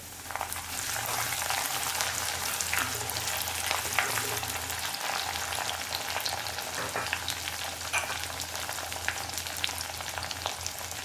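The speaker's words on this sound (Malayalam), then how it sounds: "ഇഞ്ചിയെല്ലാം ഏകദേശം മൂത്ത് വന്നിട്ടുണ്ട് നമുക്കതിലേക്ക് അരിഞ്ഞു വെച്ചേക്കുന്ന പച്ചമുളക് ഇട്ട് കൊടുക്കാം" Ginger and chopped green chili frying in hot oil for a Kerala bitter gourd pickle, a steady, close sizzle and crackle with occasional stirring scrapes running the whole time.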